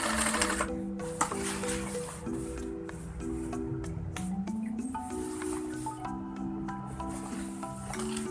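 A sewing machine stitches the side slit of a shirt, running in short mechanical bursts with changing speed, close and clear, with brief pauses between runs.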